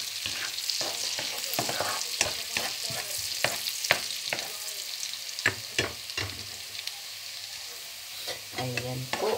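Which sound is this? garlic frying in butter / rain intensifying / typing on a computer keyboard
garlic frying in butter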